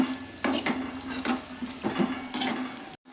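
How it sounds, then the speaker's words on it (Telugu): Beetroot frying in oil over a low flame, a close sizzle broken by repeated rhythmic stirring scrapes against the pan, ending in a sudden short silence. "ఆయిల్లో బాగా ఫ్రై చేసుకుందామండి"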